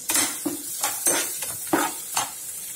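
Onions frying in a pan for a brinjal and tomato curry are stirred with a spoon, giving a steady series of scraping strokes over a soft sizzle, close and moderately loud, with no talking.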